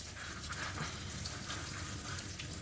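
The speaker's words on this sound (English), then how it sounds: "Now you need to pour warm water over it." Steady rushing of warm water pouring and splashing over red beans in a strainer, continuous and fairly close, with no voices.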